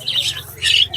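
Albino Fischer's lovebirds squawk at a busy bird market in Serampore, giving two harsh, close, high-pitched bursts in about a second over a low background hum.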